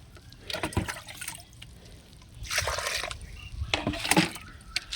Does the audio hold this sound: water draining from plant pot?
yes